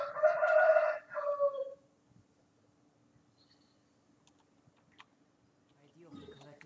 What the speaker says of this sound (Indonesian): Pagi-pagi kena suara ayam.